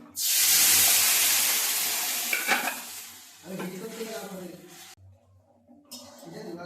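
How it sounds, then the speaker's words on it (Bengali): Cooked, browned mutton curry poured into a hot kadai, a loud burst of sizzling that slowly fades, followed by metal spoon clinks and stirring in the pan. "কষানো মাংসটুকু কড়াইতে ঢেলে দিচ্ছি"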